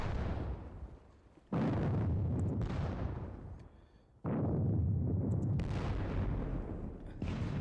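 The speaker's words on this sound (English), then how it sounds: "Now, let's do the artillery." Artillery fire in a Napoleonic wargame video game: two heavy booms, each with a long rumbling decay, the second following a few seconds after the first. No voices are heard.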